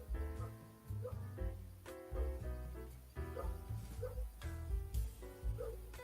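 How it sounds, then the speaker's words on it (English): Several dogs barking outside a house, repeated sharp woofs and yips in irregular bursts, heard somewhat muffled and at a distance with a tonal background underneath. "Can you guys hear the dogs outside of my house?"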